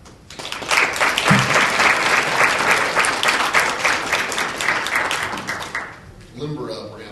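Sustained audience applause at an awards recognition ceremony, loud and steady for about six seconds with dense clapping, then tapering off briefly before a short burst resumes.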